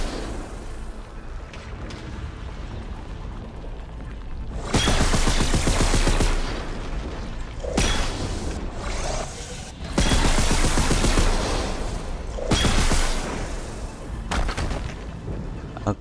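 Enemy weapon firing in Horizon Forbidden West, loud bursts of rapid fire arriving in several long volleys separated by quieter gaps.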